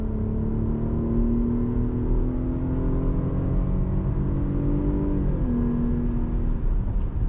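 A Jeep Grand Cherokee WK2 engine pulls steadily uphill in normal mode, a sustained rising drone heard from inside the cabin, then a gear change drops the pitch before it climbs again.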